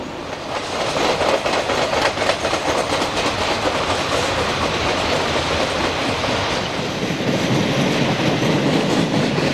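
A freight train carrying road railer trailers on special rail wheels rumbles past close by, a dense continuous roar of wheels with steady clattering over the rails throughout.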